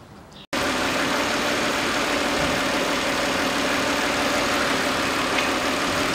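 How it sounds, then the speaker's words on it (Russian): A 2008 Chevrolet Epica idling after its throttle body was cleaned, the engine's steady, fairly loud hum starting abruptly after a brief quiet moment and running continuously with slight wavering in pitch, no talk. "Ну вот слышно, как подплавают обороты."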